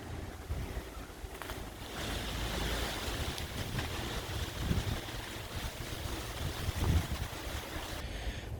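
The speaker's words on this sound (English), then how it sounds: "It's been very windy though." Strong wind and waves in very windy weather make a steady, loud broadband roar with rushing surf and buffeting gusts throughout, no voices.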